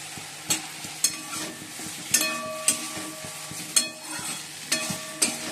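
Potatoes frying in a pan with a ground paste of cumin and coriander, stirred with a spoon: repeated sharp scraping strokes about every half second to second over a soft, continuous sizzle, close up.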